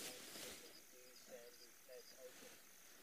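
A rufous-cheeked nightjar calls at sunset on a safari, a faint, frog-like chirring heard as short repeated bursts against quiet evening ambience, with a soft noise at the start.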